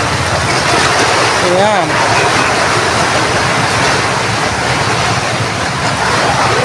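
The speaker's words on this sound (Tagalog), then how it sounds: "ang lalaki ng hampas ng alon" Big waves crash against the rocky shore of an island, a continuous loud roar of surf and spray with a brief voice speaking over it.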